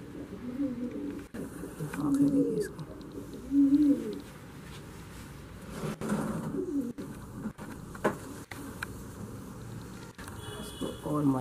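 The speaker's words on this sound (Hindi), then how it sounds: "फुलसरा कबूतर है ये" A Fulsara breed pigeon coos in repeated low throaty bursts, fairly close, with other pigeons and someone talking intermittently around the calls.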